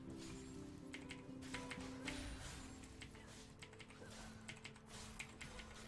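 Quick, light clatter of keys on a computer keyboard entering a chat command during a League of Legends match, a steady run of soft clicks beneath continuous game sound.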